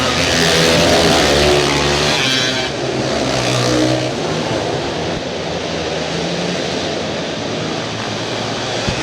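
Open cage karts racing at Salem Indoor Speedway, a loud engine roar and revving pack sound that swells and fades as the karts pass through the turns, with a crowd-and-arena wash underneath.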